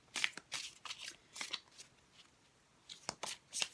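A deck of Shadowscapes Tarot cards being shuffled by hand, several quick crisp riffles and slides close up, separated by short pauses, no voices.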